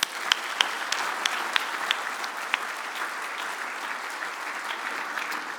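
Steady round of applause from a banquet audience at a chamber of commerce annual dinner, many hands clapping evenly at moderate distance with a few sharper nearby claps, sustained throughout.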